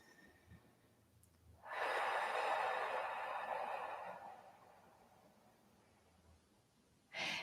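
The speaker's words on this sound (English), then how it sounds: "Take a nice deep breath in and out." A slow, deep breath in and out during a calm energy exercise, a soft airy inhale swelling then a long fading exhale, close and quiet, followed by the start of another breath.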